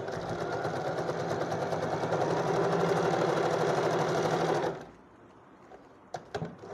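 A sewing machine stitches a seam joining two fabric pieces, running loud and continuous with a fast, even rhythm for several seconds before stopping abruptly, followed by a few faint clicks and handling taps.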